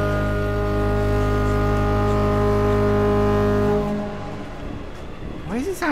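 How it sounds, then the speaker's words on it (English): A deep, sustained foghorn-like drone sounds in the horror game Stories Untold, loud and steady for several seconds before it cuts off, followed by fainter shifting tones. "Why does it sound like a foghorn?"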